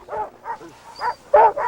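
Sled dogs at a dog sled ride in the Gunflint Trail area of Minnesota, giving a run of short, close barks and yips in quick bursts with brief gaps between them.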